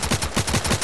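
Rapid automatic gunfire in the video game Contract Wars, a dense burst of about six quick shots in an even rattling rhythm, loud and close.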